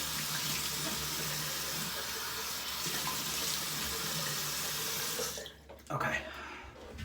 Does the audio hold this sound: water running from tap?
yes